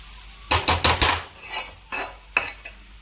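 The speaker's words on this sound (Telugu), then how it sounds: "ఒక్క 5 నిమిషాలు ఇట్లా మనం చక్కగా ఈ చింతచిగురు ఉల్లిపాయకి పట్టనిద్దామండి" Tamarind leaves and onion cook in a pan, with a metal spoon clinking sharply against it in a quick cluster of strokes, then a few spaced taps over a faint, low sizzle.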